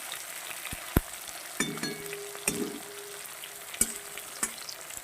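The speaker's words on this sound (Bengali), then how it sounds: "দিয়ে দেবো টমেটো এটা একটু ভেজে নেব আগে" Soft sizzling of tomato frying in a kadai, with occasional scraping and clinking of a utensil stirring at irregular intervals.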